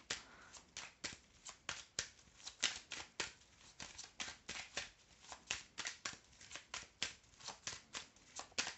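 Oracle cards are shuffled in rapid, rhythmic riffles, a dense series of crisp papery slaps close to the microphone that continues throughout with no pauses.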